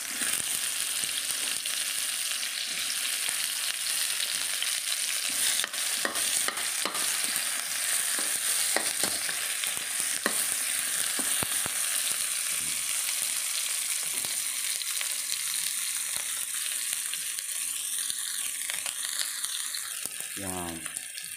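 Onion frying in a pan for a beef kinamatisan dish, a long steady sizzle close by with scattered spatula scrapes and clicks, no talking.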